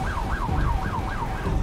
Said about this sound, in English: You hear the emergency sirens going